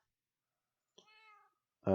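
A single cat meows in Minecraft, a short, clear tonal cry standing alone in near silence, followed by an abrupt louder burst at the end.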